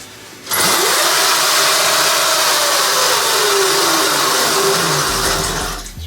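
Modified Funbike MXR1500 electric motor with flux weakening spins up abruptly into a loud, high-pitched whine, rising and holding near top RPM for several seconds before winding down.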